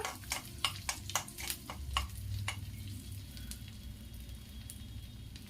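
Quiet sizzling of asafoetida dropped into hot oil, with a few sharp clicks and stirring taps early on before it settles into a soft crackle.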